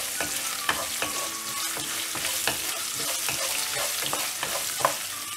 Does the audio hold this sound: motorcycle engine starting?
no